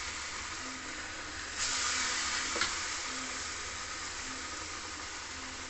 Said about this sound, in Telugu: దీనిని కొంచెం ఇందులో వేసి మనము వేయించుకుందాం